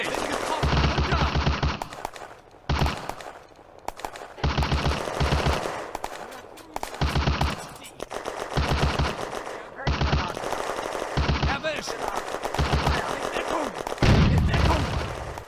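Machine gun fire crackles in a World War II Eastern Front war video game, coming in repeated long bursts separated by short pauses, loud and close, with occasional booms and some shouted voices in between.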